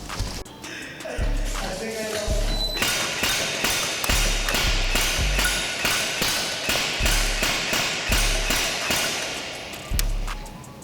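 A G&G ARP-9 airsoft gun with a MOSFET and ETU fires a steady series of snappy, close shots, each a sharp crack with a quick thump.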